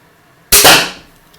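A crossbow bolt strikes a target board with a single sharp, close thud after a moment of quiet, its noise fading over about half a second.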